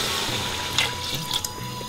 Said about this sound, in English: And now we're going to add the water.